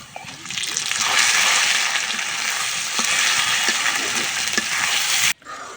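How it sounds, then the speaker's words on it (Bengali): Khesari and pea greens hit hot oil with fried onion and garlic, setting off a loud, steady sizzle with stirring scrapes that continues for several seconds before cutting off abruptly. "এবার আমি শাকগুলা দিয়ে দিব।"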